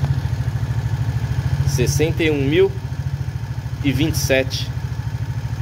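A Suzuki Burgman 125 scooter idles close by with a steady, rhythmic pulsing putter, while someone talks over it in Portuguese.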